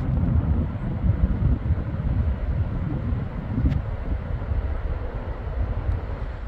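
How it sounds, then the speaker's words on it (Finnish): Strong wind blowing outdoors near an Ista Breeze I-2000 2000W wind generator, a steady loud rumbling roar of gusts buffeting the microphone throughout, with no voices. "Ja täällä siis tuulee ihan kunnolla."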